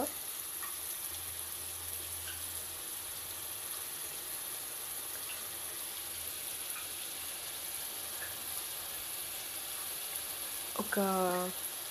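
Onions frying in a pan for pav bhaji give a steady, moderately loud sizzle throughout. A faint voice-like tone rises briefly near the end.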